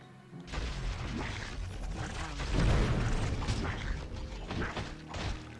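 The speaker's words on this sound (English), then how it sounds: "Missiles." Missile explosions in Baldur's Gate: Dark Alliance rumble as a dense run of booms and crashes, peaking in a heavy blast midway before easing into scattered thuds and clanks.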